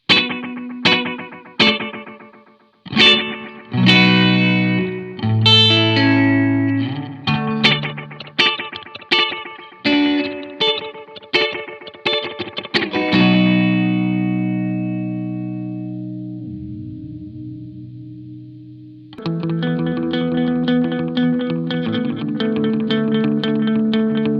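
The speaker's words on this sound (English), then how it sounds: "getting into mode 4 here, and this is almost sort of like a spring reverb" Guitar notes and chords played through the Safari Pedals Fox Echo Chorus plugin in its spring-reverb-like mode 4, with plucked attacks ringing into a wobbling, splashy tail, a long sustained drone, then a dense shimmering chord wash.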